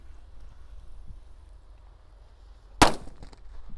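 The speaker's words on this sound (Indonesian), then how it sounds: "ini ada mercon tongkat kera kaget bosku" A single sharp bang from a stick firecracker, loud and sudden, with a brief crackling tail, standing out from quiet outdoor background noise.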